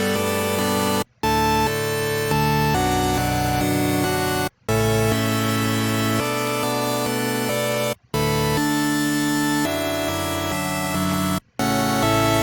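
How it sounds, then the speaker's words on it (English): A bright, buzzy synth patch from FL Studio's 3x OSC with three stacked saw waves plays sustained chords and notes, loud and close, broken by four short silent gaps between phrases. "Okay, so we start over here with an 3x OSC patch."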